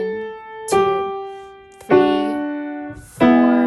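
Piano playing the opening of Beethoven's Ode to Joy as a slow beginner lesson demonstration, with three separate chords or notes struck at about one-second intervals, each ringing and fading before the next, clear and close with no talking.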